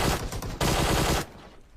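Rapid gunfire in a competitive shooter video game, a dense burst of loud shots for about a second that then cuts off abruptly into quieter game ambience.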